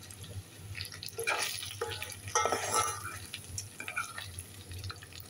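Hotdogs fry in a pan until browned, a quiet sizzle under irregular scraping and stirring clatter from a utensil, with no speech.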